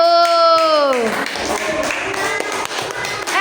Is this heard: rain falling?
no